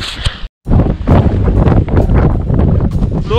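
Strong gusting wind buffets the microphone loudly and close on a frozen lake near Bodø during ice fishing, rough roaring bursts with a brief gap of quiet.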